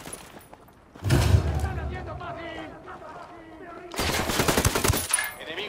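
Two bursts of rapid automatic gunfire in the video game Ghost Recon Wildlands, loud and close, with a quieter stretch of game voices and ambience between them.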